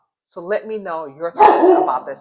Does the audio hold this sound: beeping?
no